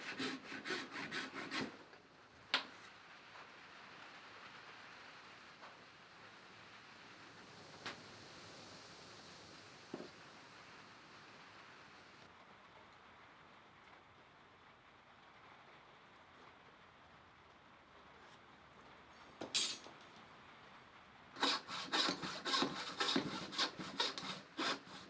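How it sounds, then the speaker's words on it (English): A hand saw cuts through wood for a wooden spill plane, trimming pieces flush with the plane body in a workshop, its steady rasping strokes running long and even, with a few louder, quicker bursts near the start and end. "cut them so they're flush with the body of the plane"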